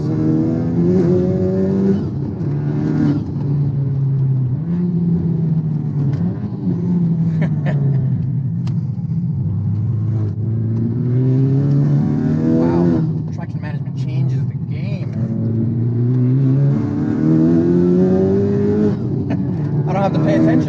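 A modified Honda Civic Type R FK8 with a turbo-back exhaust and carbon fiber parts accelerates with a rising, droning engine note that climbs and falls through gear changes, heard from inside the car under continuous talk.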